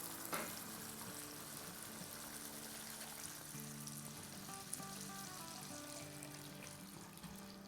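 Water pours into a pan of sizzling fried tomato masala cooked in oil. A steady hiss and splash continues throughout at a fairly low level, with no voices.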